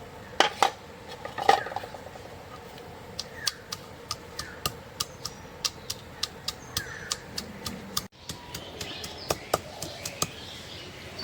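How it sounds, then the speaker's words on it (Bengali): Garlic being chopped with a knife while cooking, a steady series of sharp, evenly spaced blade taps against the board, close and clear, with a few heavier knocks near the start. "আগে রসুন কুচি করবো।"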